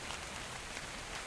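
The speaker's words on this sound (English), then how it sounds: "it's raining in the desert." Rain falls in a desert in the survival game Scorched Earth, a faint, steady, soft hiss of drops with no other sounds.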